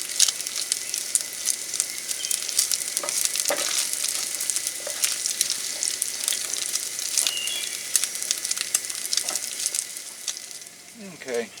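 Bacon frying in a pan at a base camp, a steady close crackling sizzle running throughout with scattered pops and faint stirring clinks.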